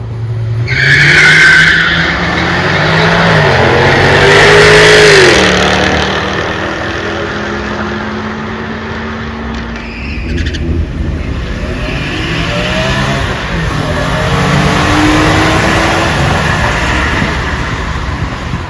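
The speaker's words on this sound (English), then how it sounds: "doing some drag racing" Cars race each other in a drag race, loud and close, with tires skidding and squealing and engines revving hard and rising in pitch, continuing throughout with no talk.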